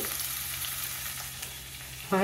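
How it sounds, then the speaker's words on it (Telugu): Chopped onion pieces fry in a pan for a mushroom curry, giving a steady, close hiss of sizzling oil that runs throughout with no talking. "ఈ ఉల్లిపాయ ముక్కలు వేగేలోపు"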